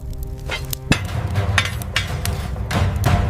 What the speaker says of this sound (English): Unrefined, unyielding, the iron waits for the hammer's call.